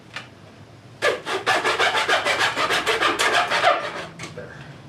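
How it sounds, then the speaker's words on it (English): A handsaw rasps through a mattress box foundation in quick, steady back-and-forth strokes. The close, rhythmic sawing begins after a brief pause and carries on for several seconds before it tapers off. "I'll just use my handsaw for that."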